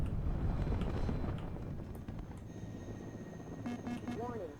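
Steady, dense rotor rumble from an Mi-8 attack helicopter in the WARNO real-time strategy game stays loud for the first seconds, then eases to a lower drone under other battle noise.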